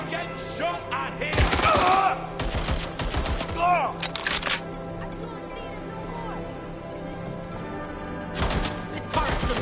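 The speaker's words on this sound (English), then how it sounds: "I'm getting shot at here." Gunfire in Watch Dogs Legion, several sharp bursts of shots early and again near the end, with a voice speaking between them over a low background hum.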